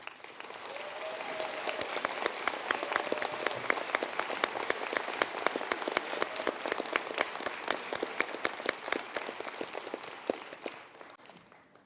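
Sustained applause for graduates standing at a college conferring ceremony, dense steady clapping from a large seated audience that holds for about ten seconds before fading.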